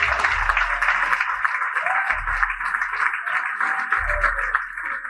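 Audience applause after a presentation at the BTA 2022 event, a steady wash of clapping from a crowd that holds at an even level throughout, with faint low thumps underneath.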